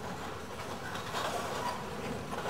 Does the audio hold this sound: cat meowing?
no